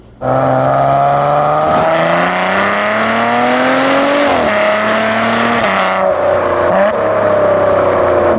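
A 2017 Maserati Ghibli's exhaust roars loudly and continuously, the engine note rising and dipping through revs before easing off near the end.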